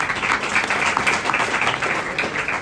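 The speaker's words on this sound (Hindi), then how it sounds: "जोरदार ताली होनी चाहिए।" An audience at a devotional gathering claps in a short, steady burst of applause, moderately loud and even from start to finish, with no talk over it.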